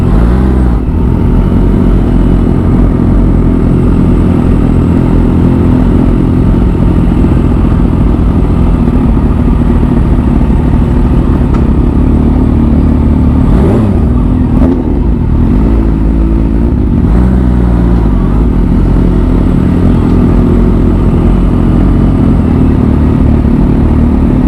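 A 2016 Kawasaki Ninja H2 motorcycle under way, its engine a loud, continuous close drone with shifting revs, steady throughout with a brief swell midway.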